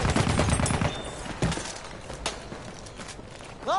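Battlefield 1 gunfire in a multiplayer match: rapid bursts of rifle and machine-gun shots, some close and sharp, others more distant, with a few isolated cracks spaced through the sequence.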